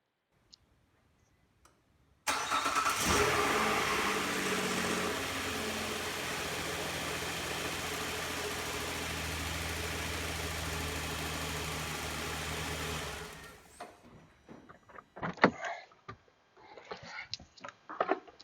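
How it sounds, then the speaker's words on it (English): A Nissan Quest with a freshly installed battery cranks and fires, then idles steadily at close range for about ten seconds before shutting off, followed by scattered clicks and handling noises. "Let's go ahead and start the car, make sure everything works good."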